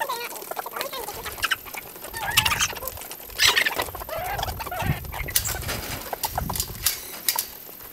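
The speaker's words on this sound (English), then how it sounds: "Now that all of my laying type chickens can be turned loose together" Laying hens out in a yard cluck and squawk in irregular bursts at close range, some calls sharp and loud over a soft bed of ongoing chatter, with occasional rustling nearby.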